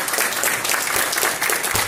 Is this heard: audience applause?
yes